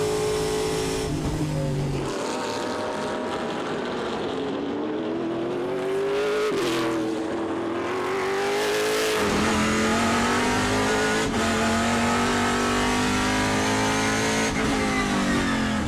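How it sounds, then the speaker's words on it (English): Onboard a Dig Motorsports Chevy Camaro Trans Am race car at Portland, the engine is loud and near. It drops off under braking, then revs climb repeatedly through the gears with sharp shift breaks, ending in a sustained high drone. "let's ride on board in this Dig Motorsports Caleb Schrader Consonus Healthcare Chevy Camaro"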